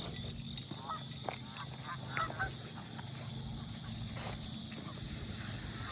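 Geese honking in a park, a few scattered honks fairly faint over a steady background hum, with people talking quietly nearby.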